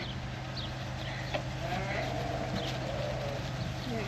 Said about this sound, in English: They're happy little lambs.